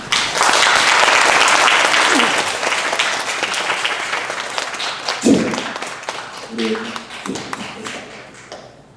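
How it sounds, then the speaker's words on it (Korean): Loud congregation applause at a Christmas church service, a full burst of many clapping hands that gradually thins and fades, with brief voices and a few scattered claps near the end. "뜨거운 박수를 한번 우리 친구들에게 보내볼까요?"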